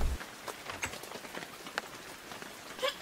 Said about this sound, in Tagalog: Hindi ba talaga titila ang ulan?